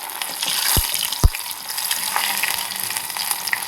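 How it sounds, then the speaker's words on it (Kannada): A snack drops into hot oil, which hisses and bubbles continuously, with two sharp pops early on and close, moderate sizzling throughout. "ಸೊ ಎಣ್ಣೆ ಕಾದಿದೆ, ಎಣ್ಣೆಲಿ ಬಿಡೋಣ"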